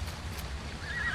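A horse in the Ark Survival Ascended video game gives a short neigh, fairly loud and close, over a soft ambient rumble.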